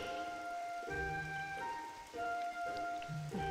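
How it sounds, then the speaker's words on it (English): Rain falling in the Bravely Second: End Layer video game, a steady soft patter of rainfall under sustained game music tones, with no talking. "Rain in Harina? Now that's something you don't see every day."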